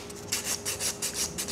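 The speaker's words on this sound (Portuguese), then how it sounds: "Primeiro a gente começa lixando aqui essa parte leitosa aqui da beirada da unha, a ponteira da unha" Rhythmic rasping strokes of a nail file working the milky tip edge of a porcelain fingernail, about eight even, close-up passes in quick succession with no talking.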